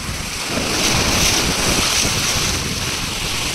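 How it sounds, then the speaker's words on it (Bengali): Ocean surf roars loudly and close at Puri beach, India, a broad wash of breaking water that swells, mixed with gusty wind buffeting the microphone. "ওই যে বড় ঢেউ একটা এসেছে"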